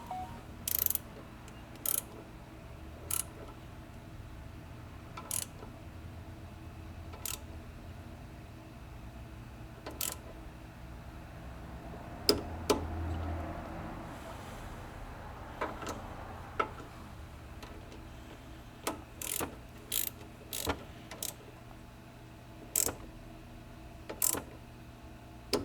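High-pressure pump bolts tightened with a ratchet torque wrench, sparse sharp clicks scattered across a quiet room with a brief stretch of soft mechanical rustle in the middle.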